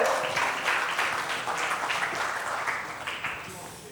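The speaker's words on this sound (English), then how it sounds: "Big round of applause for Grand Gurvinder." Conference audience applause for a participant at a trainers and speakers event, a broad wash of many hands clapping that starts strong and slowly fades toward the end, with some voices underneath.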